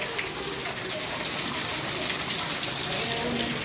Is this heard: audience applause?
no